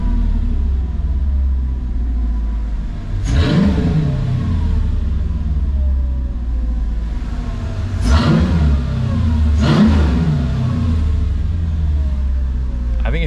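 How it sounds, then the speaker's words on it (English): A Mercedes C55 AMG with a newly welded exhaust idles with a deep steady rumble, then three sharp revs flare up and fall back, loud and close. "I can give a couple revs"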